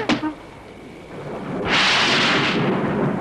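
Thunder in a horror film: a sharp crack opens, then a low lull, and then a loud, broad rumble builds and holds near and heavy to the end.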